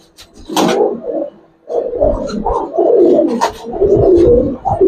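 Several Giribaz pigeons coo in low, throaty bursts close by, overlapping and repeating with short pauses between calls.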